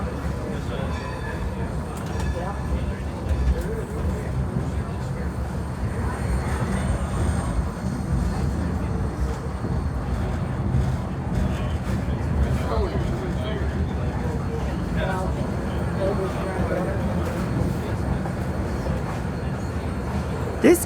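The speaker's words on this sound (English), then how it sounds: "Our train soon passes the Scranton University and a row of freight cars." A passenger train near Scranton rumbles steadily along the rails, a continuous low rolling clatter with faint squeals and knocks, heard from on board without a break.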